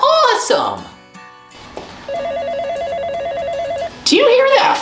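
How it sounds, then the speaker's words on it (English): A telephone rings in a repeated electronic trill for about two seconds, clear and close, with a voice speaking just before and just after it. "Do you hear that phone ringing?"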